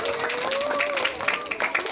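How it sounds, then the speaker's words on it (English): An audience claps for itself after a tongue-twister exercise at a stage event, with scattered hand claps and a voice or two cutting through the brief clatter. "Clap for yourself."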